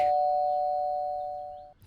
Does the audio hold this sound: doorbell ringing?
yes